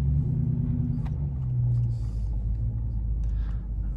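A steady, deep engine rumble from a Dodge R/T heard through a rolled-down window at night, loud and continuous, with a few faint clicks and rattles on top.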